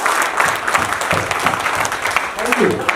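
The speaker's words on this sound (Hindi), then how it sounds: "अपने लिए एक ताली बजाइए।" A seminar audience applauds for itself during a business plan presentation. The clapping is dense and continuous at mid distance, with voices talking over it.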